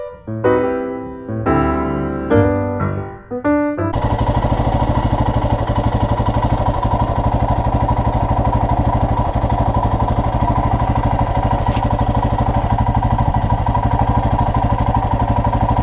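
A motorcycle ridden on the road after a few short clicks, a steady loud engine drone with wind rush running continuously close to the helmet.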